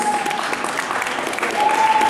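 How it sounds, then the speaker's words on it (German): A crowd at a cosplay lookalike contest applauds a second-place winner, dense continuous clapping filling the hall with a faint tonal whine running underneath. "Einen großen, fetten Applaus."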